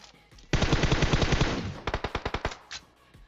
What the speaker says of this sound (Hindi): अब ये लोग आगे गोलियां दबा के चला रहे हैं